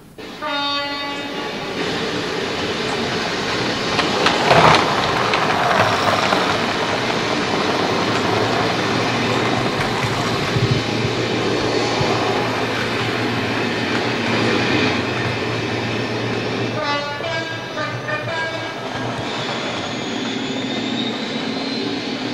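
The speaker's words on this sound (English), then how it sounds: "we will see the arrival of a rail bus bringing dock workers to the area" A rail bus carrying dock workers arrives on a railway line at Bullo Pill. It rumbles steadily and loudly as it draws near, with horn blasts and rhythmic wheel clatter over the rails, and no voices.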